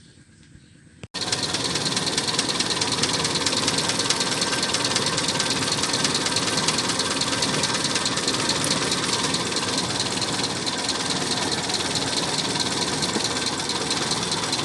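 A Toyota 4K engine fitted with a 3K carburetor cranks and catches after about a second, then settles into a loud, steady, slightly knocking idle that runs unbroken to the end.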